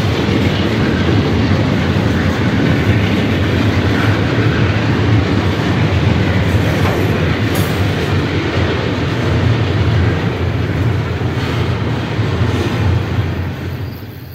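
CSX diesel freight locomotives, including a 2001 CW44AH, roll past on the Willard Sub with a loud, continuous rumble and engine drone, joined by a rising whine near the end.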